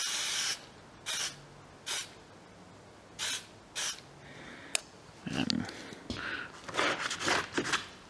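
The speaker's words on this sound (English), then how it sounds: "And then I'll hit these with our Saddleac. You want to shake it up real good, get a good top coat on them." Short bursts of aerosol Saddleac top coat sprayed onto teardrop diamond earrings, several separate hissing puffs of about half a second each, then longer uneven spraying and rattling near the end.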